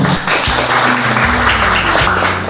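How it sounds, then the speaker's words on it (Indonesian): An audience at a year-end student talk event claps after a closing statement, a short even burst of applause with low-pitched hum or music tones shifting underneath. "Berikan tepuk tangan terlebih dahulu."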